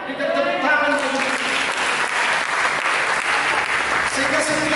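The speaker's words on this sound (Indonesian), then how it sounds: "Dengan tepuk tangan begitu." A church congregation applauds during a sermon, a loud, sustained burst of clapping lasting several seconds, with a voice speaking over its start and end.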